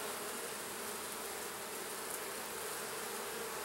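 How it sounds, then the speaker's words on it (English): Dense, steady buzzing of a honey bee colony inside an open hive during inspection, a continuous close hum with no voices over it. "a good, solid coverage of bees in there"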